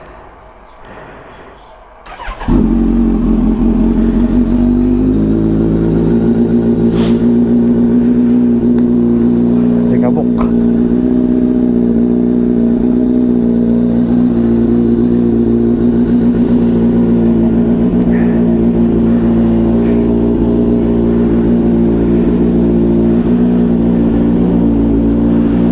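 A motorcycle engine idles steadily while warming up, a constant close, loud drone that starts after a brief quieter moment and holds for the rest of the clip.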